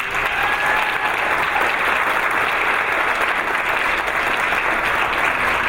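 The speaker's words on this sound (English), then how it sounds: "Please give them a round of applause." Sustained, loud applause from a gala audience at a women's rights event, an even, dense roar of clapping from a large crowd that holds without pause.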